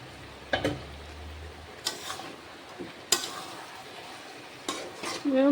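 A spoon scrapes and clinks against a pot of chicken curry after the lid comes off, with a few sharp metallic knocks spaced apart over a quiet, faint simmer.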